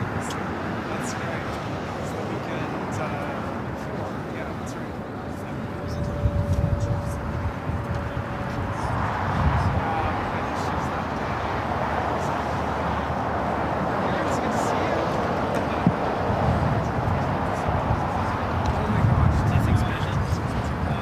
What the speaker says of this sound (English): Philippine, the 777 heading back to Manila, flight 113, rolling down the 24 left on the north side